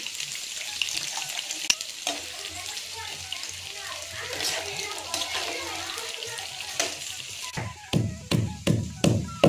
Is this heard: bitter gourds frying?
yes